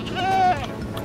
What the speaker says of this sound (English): Come on, goat.